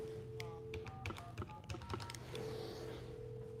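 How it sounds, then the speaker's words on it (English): A touch-tone desk telephone at a TV station dials a newsroom extension: a quick run of short keypad beeps, fairly faint, over a low steady room hum. "So I'm going to make one more phone call."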